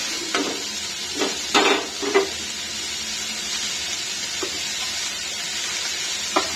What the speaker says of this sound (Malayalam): ഒരു സവാള മൊത്തം ചെറുതായിട്ട് ഇടുന്നിട്ട്